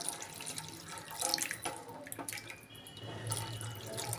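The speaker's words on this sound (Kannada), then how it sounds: "ನಮ್ಗೆ ಅದಕ್ಕೆ ಸ್ವಲ್ಪ ನೀರು ಹಾಕೋಣ" Water runs steadily from a tap or is poured into a cooking pot where a red curry base has been boiling, a continuous close splashing stream with no talk.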